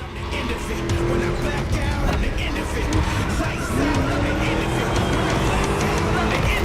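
A V8 car races in the video game The Crew Motorfest, its engine note rising and falling under tire squeal and skidding, with a continuous loud racing mix and some background voices.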